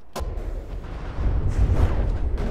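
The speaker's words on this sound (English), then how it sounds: "there are so many explosions happening that the game seems to be slowing down some" Heavy naval gun explosions in From The Depths, with quad 250mm guns, a sharp blast followed by rumbling, overlapping booms that swell louder and denser midway through.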